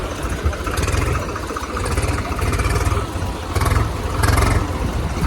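Tractor diesel engines rev hard while pulling an old Mahindra Thar out of deep off-road mud, a loud, close, throbbing roar that surges and eases in several waves.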